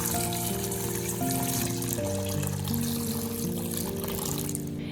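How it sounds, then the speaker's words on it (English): Water splashes and trickles softly as cucumbers are placed into a bowl of water, with light sloshing and dripping, fairly quiet and close, no voices. "first, place the cucumbers into a bowl of water."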